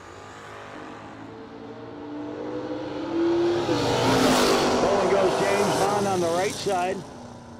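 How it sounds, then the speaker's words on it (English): A drag racing Camaro launches down the strip at a No Delay Nationals event, its engine building from a low rumble to a loud, rising roar with rapid revving sweeps near the end, while an announcer talks over it. "Bowling's Camaro out 730. 618 for Jared Stedman."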